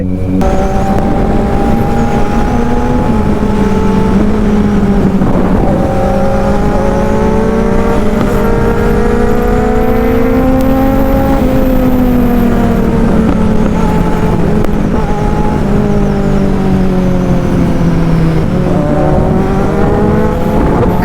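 Two Kawasaki Z900 motorcycles race side by side, engines roaring loud and continuous as they rev up and shift through gears, pitch climbing and dropping in repeated sweeps.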